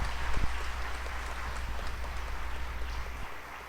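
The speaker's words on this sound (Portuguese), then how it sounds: "colocando ela com uma salva de palmas para a Mãe de Deus" A church congregation claps together in honour of the Virgin Mary, a steady dense wash of applause sustained throughout, moderately loud and slowly tapering at the end.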